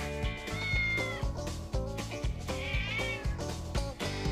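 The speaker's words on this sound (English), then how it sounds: "Hear my cat yelling outside?" A cat yowls continuously outdoors in drawn-out, wavering meows, rising and falling in pitch, somewhat distant and muffled.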